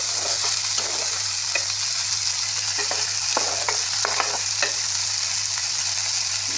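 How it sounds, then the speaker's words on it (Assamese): Chopped tomatoes fry in a pan with a steady, even sizzle, punctuated by repeated scraping stirs of a utensil, close and without any talk. "এতিয়া ইয়াতে মই এই বিলাহীখিনি দি দিছোঁ। ভালদৰে এনেদৰে লৰাই দিব।"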